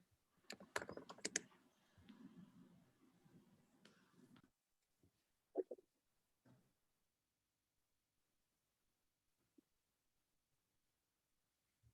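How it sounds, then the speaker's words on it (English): Someone types on a computer keyboard during an online meeting, quick close clusters of clicks followed by a few scattered, fainter keystrokes with long pauses between them. "I apologize if you're hearing my keyboard really loudly."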